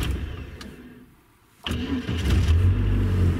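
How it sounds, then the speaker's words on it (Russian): A VAZ car engine is cranked by its starter and catches at about 1.6 seconds, then settles into a loud, steady idle close to the microphone. "Вот, машина у нас завелась, в принципе."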